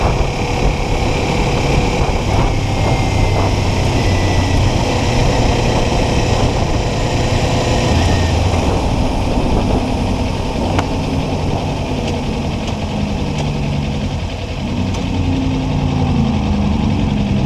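A Kawasaki Ninja motorcycle, a 300 or 400, hums steadily as it cruises in fifth gear, its engine drone loud and continuous with wind rush over the full stretch and no talk.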